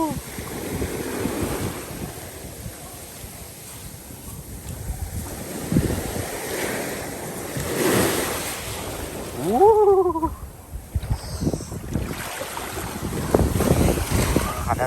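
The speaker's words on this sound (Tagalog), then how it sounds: "Pero malakas yung alon" Strong surf rolls onto Saud Beach in Pagudpud after rain, waves surging and receding under heavy wind buffeting on the microphone, with faint voices in the background.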